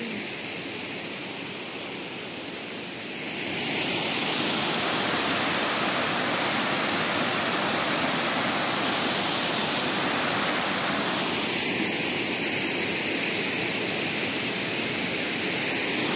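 River water pouring over a check dam makes a steady broadband roar, loud and continuous, growing fuller after a few seconds and then holding constant, with no voices.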